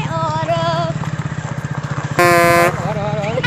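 A motorcycle rumbles along on a ride, its engine close and pulsing while a loud horn blares briefly partway through, with voices around it.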